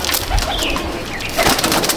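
Pigeons in a loft at Ichhapur, North 24 Parganas, coo repeatedly and close by, with soft overlapping throaty calls and faint rustling but no talk.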